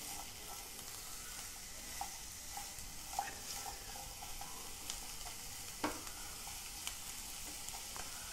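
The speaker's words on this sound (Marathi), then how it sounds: "आता कांदा भाजून घ्यायचा त्यामध्ये" Onion sautéing in a pan for a matar paneer gravy makes a soft, even sizzle, quiet and close, with occasional light utensil taps and scrapes and no talking.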